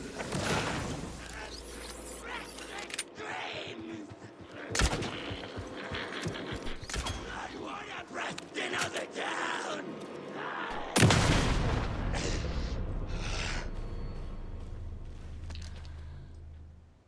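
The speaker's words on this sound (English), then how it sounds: "or I can just fire off a round" A weapon fires in the horror video game Alan Wake II: a few sharp, heavy gunshots with booming tails over a dark rumbling game soundscape. Two strongest blasts stand out, with no talking.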